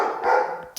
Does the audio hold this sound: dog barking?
yes